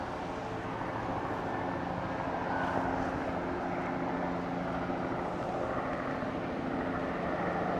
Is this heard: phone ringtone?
no